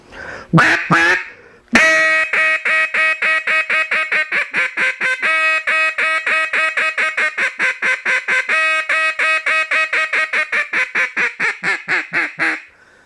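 A duck call blows a triple hail call, close and loud: a few opening blasts, then a long run of rapid, evenly spaced quacks that taper off at the end.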